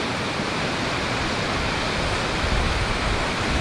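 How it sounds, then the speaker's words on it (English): Waves rolling onto a beach make a continuous loud wash of broadband surf noise, steady and close, with no voices. "Let's wait till these waves roll by,"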